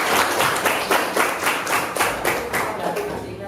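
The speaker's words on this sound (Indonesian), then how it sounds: "Beri tepuk tangan untuk siapa?" A class of sixth-grade pupils claps in a short burst of rhythmic, loud applause, hands striking together in quick, fairly even beats for a few seconds inside the classroom.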